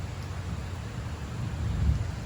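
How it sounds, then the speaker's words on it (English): Distant thunder rumbling low and soft beneath steady rain and outdoor wind, swelling slightly toward the end, with no talking. "Bit of thunder up there."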